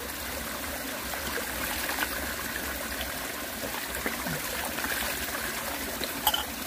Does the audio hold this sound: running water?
yes